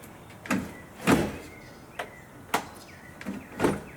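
A DIY overland kitchen drawer in the back of a 1990 Ford Bronco II slides and locks into place, making a series of sharp, close knocks and brief sliding rubs spaced unevenly, with no talk.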